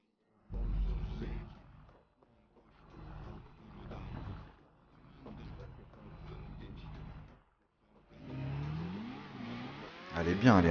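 A motorcycle engine in GTA 5 revs in several separate surges with short quiet gaps between them, moderately loud and building to a sharper, more intense rev at the end, while someone talks over it.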